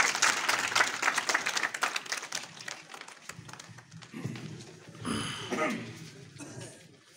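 Applause at a village retirement ceremony, a burst of clapping at the start that thins and fades, followed by a voice speaking over the quieter room and some louder vocal activity near the end.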